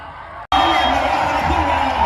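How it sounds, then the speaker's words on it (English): A stadium crowd at a Yasothon FC football match roars loudly after a goal. A brief drop is followed by a sustained, dense wall of cheering that stays steady and close. "The crowd are going crazy!"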